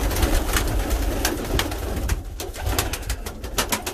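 Pigeons coo and flutter inside a loft, with soft repeated cooing and frequent sharp clicks and wingbeats up close, steady throughout.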